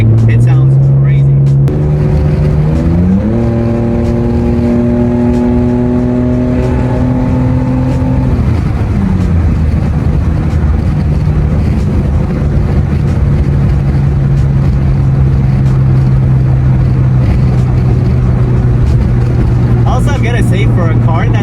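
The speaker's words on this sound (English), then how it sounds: "With the crazy sounding exhaust, like pop, pop, pop, like that." A 1999 Nissan Skyline GT, non-turbo, with a loud Tomei exhaust revs up and holds a steady drone at close range, then settles back, with a person talking over it.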